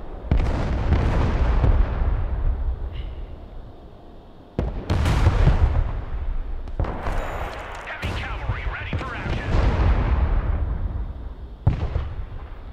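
Large bombs explode in a multiplayer battle in the war game Broken Arrow, a series of heavy, loud, rolling blasts each decaying slowly, several hitting in quick succession with crackling debris between, no talking over them.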